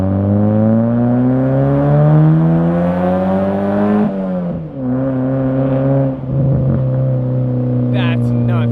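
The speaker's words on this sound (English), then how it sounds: "Not only do you get like burbles and pops, especially because this one doesn't have a catalytic converter in it, but you do hear everything from this motor." Loud, close NA Mazda Miata fitted with a MANZO exhaust and no catalytic converter, revving with a steady droning note that dips and recovers, with burbling roughness and brief crackles toward the end.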